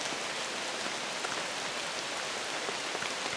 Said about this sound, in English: It's just absolutely beautiful, other than it's pouring rain